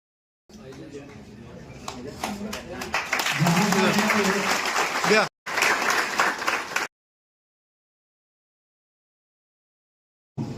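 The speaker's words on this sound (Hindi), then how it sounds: "जोरदार तालियां बजनी चाहिए।" Audience applause at a felicitation ceremony where guests are honoured with shawls and mementos, rising to a loud, dense burst of clapping mixed with voices, briefly cut off, then resuming before stopping abruptly.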